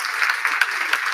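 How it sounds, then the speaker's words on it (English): A small pub audience at a politics talk event applauds briefly, light rapid claps from a modest crowd heard fairly close, steady and short without any voices. "How about a big round of applause for Liz, who wrote the report?"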